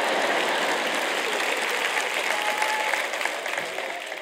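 Sustained applause from a church conference audience, a dense steady clapping wash that stays loud and continuous throughout before tapering slightly at the end.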